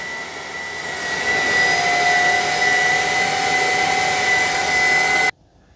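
A Kenmore HF5010 cordless wet-dry vacuum runs with a steady, loud motor whine and airy hiss that holds for about five seconds before cutting off abruptly.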